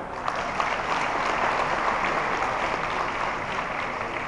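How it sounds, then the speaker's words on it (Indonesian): Sustained applause from an audience at the INAICTA 2011 awards night, a dense, even roar of clapping filling the hall. "Tepuk tangan."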